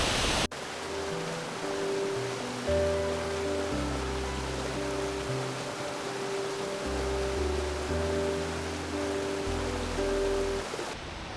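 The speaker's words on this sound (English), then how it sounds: "I've arrived at the waterfall and it's so loud, but very, very beautiful." Kuang Si Falls in Laos roars as a constant, dense wash of rushing water. The roar holds loud and unbroken beneath soft background music.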